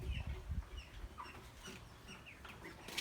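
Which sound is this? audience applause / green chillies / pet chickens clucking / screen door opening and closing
pet chickens clucking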